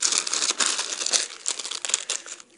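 A small plastic gift packet crinkles and rustles in bursts of sharp crackling as it is handled up close, without any speech.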